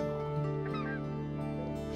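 Specklebelly geese calling in flight during a goose hunt, a few faint high honks over a steady background hum, with no talk.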